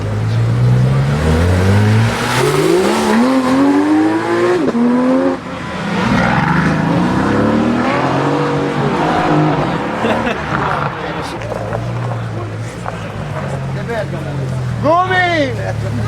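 A sports car at a Cars & Coffee meet in Brescia, 2019, revs and accelerates hard using launch control, its engine note climbing through rising gears, with excited shouting from onlookers over the loud, close roar.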